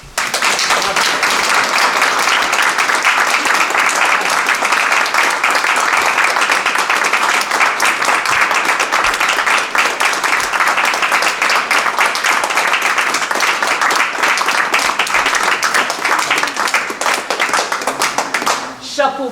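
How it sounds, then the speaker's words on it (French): Audience applauding a women's team, a loud sustained burst of many hands clapping close by that holds steady for the whole stretch before tapering at the very end. "je crois qu'on peut vraiment les applaudir"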